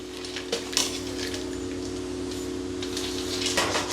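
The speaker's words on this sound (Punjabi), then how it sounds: "ਇਹ ਜਿਹੜਾ ਅਸੀਂ ਡਰਾਈ ਫਰੂਟ ਕੱਟਿਆ ਸੀ ਗਏ ਹੁਣ ਸਾਰਾ ਹੀ ਅਸੀਂ ਇਹਦੇ ਵਿੱਚ ਮਿਕਸ ਕਰਾਂਗੇ" Chopped dry fruit being stirred into melted chocolate in a pan over a low flame, with scattered clinks and scrapes of a utensil against the pan over a steady low hum, and no talking.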